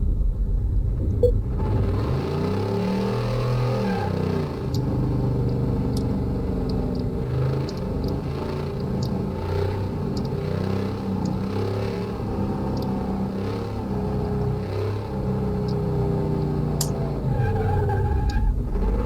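A car engine in the video game Car Mechanic Simulator 2018 rumbles and revs continuously, rising and settling in pitch over a steady low drone, with no talking.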